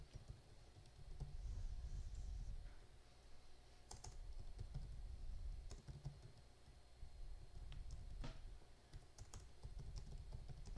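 C++ code typed on a computer keyboard, a continuous quiet stream of rapid key clicks with irregular rhythm and a few louder keystrokes standing out, with no voices.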